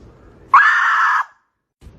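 A cat screaming at the door early in the morning, a single loud drawn-out yowl lasting under a second, close and alone, followed by quiet.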